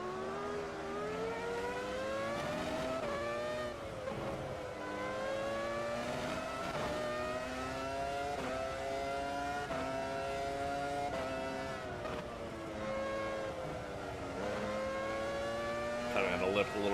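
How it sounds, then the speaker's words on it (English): Formula 1 race car engines roar in a racing video game at the classic Spa circuit, several high-revving engines rising and falling through gear changes, loud and continuous with pitch sweeps as cars accelerate and shift. "Listen to the sounds of these cars,"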